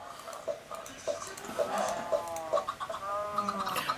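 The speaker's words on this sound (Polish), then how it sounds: "Mamy cztery kury." Several video game chickens from Minecraft cluck in short, repeated bursts, fairly faint, with soft background noise and a faint voice underneath.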